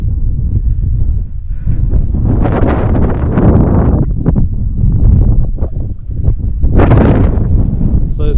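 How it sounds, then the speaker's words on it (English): Freezing wind at minus ten degrees on the Mount Wellington (kunanyi) summit buffets the microphone in loud, continuous, rumbling gusts that surge and ease throughout. "So it's freezing wind"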